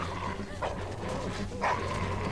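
A dog in The Walking Dead Season 2 video game gives two short barks or yips, moderately close, over a steady game background hum.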